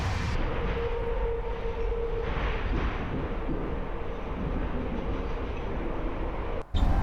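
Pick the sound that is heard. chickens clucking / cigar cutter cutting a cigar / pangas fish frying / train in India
train in India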